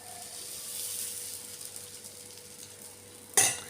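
Dosa batter is spread in a circle on a hot pan, giving a soft, steady scraping sizzle that ends in a sudden brief louder scrape.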